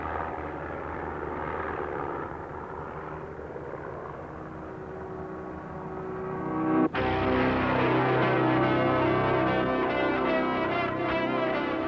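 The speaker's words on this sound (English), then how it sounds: "The Pitts Special, which flies equally well inverted as the right way up, is also the plane selected by the Marlboro Aerobatics team." A Pitts Special aerobatic propeller biplane performs at an air show, its engine droning steadily before surging into a louder, harmonically rich roar midway that holds to the end.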